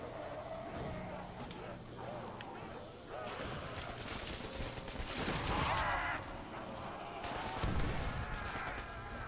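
Rapid bursts of submachine gun fire, a .22 model with a top-mounted magazine, ring out in a Call of Duty Zombies match on the modded Der Riese map, dense and repeated with short pauses, under a talking voice.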